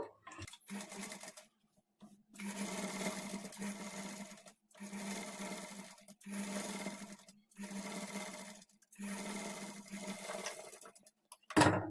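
A sewing machine stitches a thread piping along fabric with a normal presser foot, running in five steady bursts of a few seconds each separated by short pauses, close and moderately loud with no talking.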